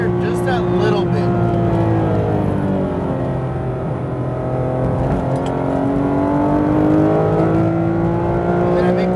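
Porsche GT3 RS engine on a race track at Speed Vegas, revving up as the car accelerates out of a corner, its steady rising harmonic roar loud and close throughout.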